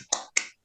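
Two crisp, sharp handclaps a quarter-second apart, close and fairly loud, in a classroom peer-teaching session, then silence.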